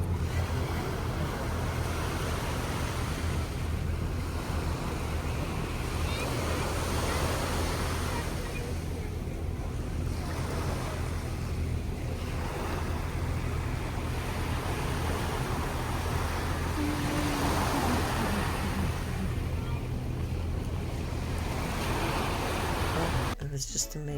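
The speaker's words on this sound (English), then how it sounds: "you can just sit back and listen to the wonderful sounds of the water" Water at a Caribbean marina in St Martin, a steady broadband wash of small waves and lapping against boats, continuous throughout and mixed with wind noise on the microphone.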